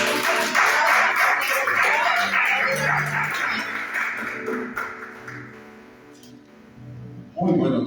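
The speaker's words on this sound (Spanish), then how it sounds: "démosle un fuerte aplauso al Señor" Congregation applauding during a church service, a dense wash of clapping filling the room for several seconds, thinning toward the end before a sudden louder burst.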